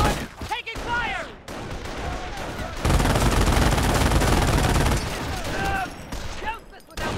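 Gunfire in the World War II strategy game Company of Heroes, rapid rifle and machine-gun bursts in a sustained fusillade, with shouted soldier voices cutting in over the shooting.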